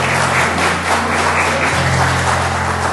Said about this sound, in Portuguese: Uma salva de palmas à Rosana